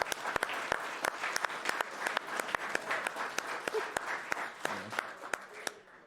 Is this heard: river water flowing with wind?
no